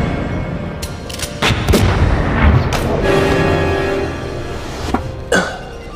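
Gunfire erupts in The Matrix film as several sharp, loud shots crack out in quick succession over a rumbling, reverberant background, heard alone without talk.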